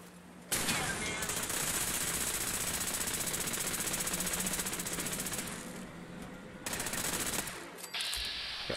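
A Fallout 4 turret fires a long, rapid automatic stream of shots, loud and continuous for several seconds, then pauses and resumes in a shorter burst.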